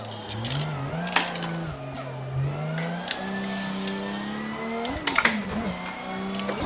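A car drifting in a sim racing game: a steady engine drone that rises and falls with revs, shifting pitch through the slide, with brief tire-like squeals and bumps midway, no voices.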